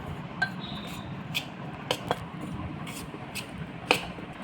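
Red chili and spices are mixed into gram flour in a bowl for spicy gathiya, heard as a quiet scrape with a handful of sparse, light clinks spread through the clip.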